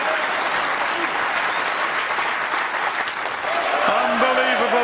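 Crucible snooker crowd applauding Ronnie O'Sullivan's break at the World Championship, dense sustained clapping from a large audience, loud and steady throughout, with a commentator talking over it.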